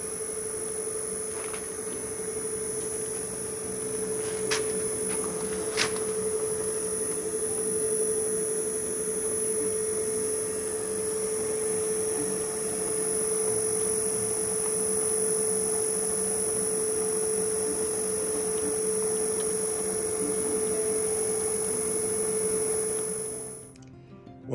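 A home-made differential on a gear hobbing machine runs with a steady, even mechanical hum and a constant high whine, broken by a couple of brief clicks, heard close and alone for the full stretch before it stops at the end.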